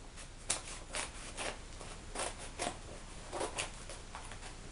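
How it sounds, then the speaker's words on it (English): A blade cutting through the packaging of a DVD set, close and quiet: a series of short rasping, slicing strokes in uneven bursts against light background hiss. "I'm just going to try and cut right through it"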